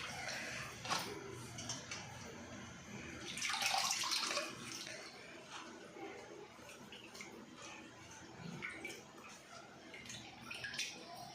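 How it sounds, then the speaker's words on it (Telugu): Gongura leaves being rinsed in a bowl of water to remove sand, with soft splashing, swishing and dripping close by at a low level. "గోంగూరని నీట్గా వాష్ చేసుకోవాలండి. ఇసుక ఏమన్నా ఉంటే పోతుంది."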